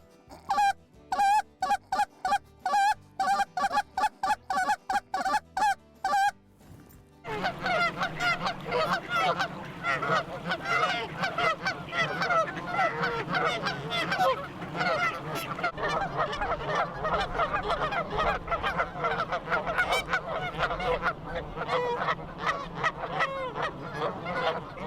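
Goose call blown in a rhythmic mix of quick spit notes and spit notes: a string of short, sharp honks first, then a dense, continuous run of overlapping goosey honks and clucks, loud and close with no talking.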